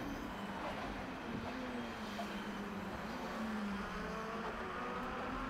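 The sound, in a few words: race cars driving through a chicane at Oulton Park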